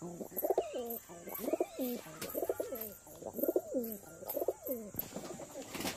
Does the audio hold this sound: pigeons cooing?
yes